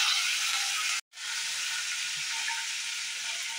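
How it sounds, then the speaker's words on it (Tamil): Chana dal and curry leaves sizzling in hot oil, a steady bright crackling hiss that breaks off for an instant near the start, then resumes close and even. "இங்கே பாருங்கள் ஃப்ரெண்ட்ஸ், நல்லா பொரியுது."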